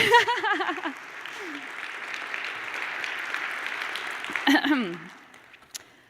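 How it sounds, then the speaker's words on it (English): Audience applause fills several seconds, framed by someone talking at the start and again near the end as the clapping fades out. "We can clap for that."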